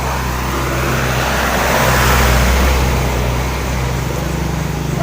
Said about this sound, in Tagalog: Meron pong truck na dumadaan.